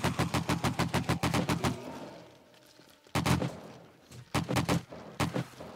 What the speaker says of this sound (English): All right, let me get the AK going again.